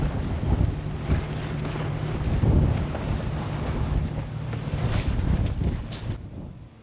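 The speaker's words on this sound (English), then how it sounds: "It's too windy." Strong wind roars and buffets the microphone continuously during a cotton harvest, with rumbling low gusts and a faint hum underneath, dropping off abruptly near the end.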